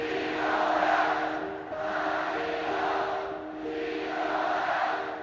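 A huge stadium crowd of about 50,000 North Koreans cheers at the Pyongyang marathon, a dense, sustained roar that swells and dips in waves, with steady tonal music or announcement sound threaded through it.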